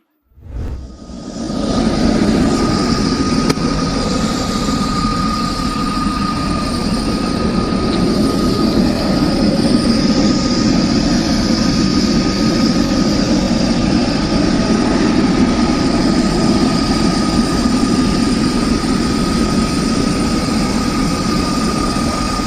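A train rushes past very close by at an outdoor railway safety speech by a senator, a loud continuous roar of wheels and rail noise with a steady high whine, sustained for over twenty seconds.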